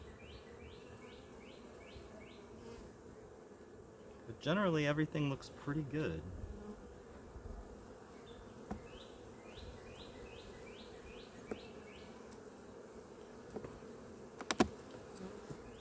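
Honeybees buzz steadily around an open beehive during an inspection, a constant droning hum with a voice speaking briefly midway and faint bird chirps in the background.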